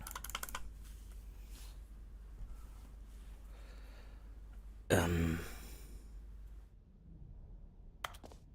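Computer keyboard keys pressed by a streamer during a session of The Stanley Parable: Ultra Deluxe, faint clicks early on, then a louder burst of key presses around the middle before fading to quiet.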